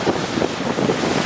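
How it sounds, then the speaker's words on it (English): Strong sea wind of about 20 knots buffeting a motoring boat in the eastern Bahamas with waves up to 12 feet, a loud steady rushing roar against the microphone. "And the wind's about 20 knots,"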